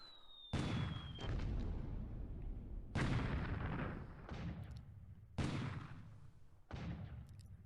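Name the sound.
naval shore bombardment, 9-inch gun firing, War in the Pacific video game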